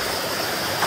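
A mountain stream near its source in the hills flows in a steady, close broadband rush of water, continuous and fairly loud throughout with no voices.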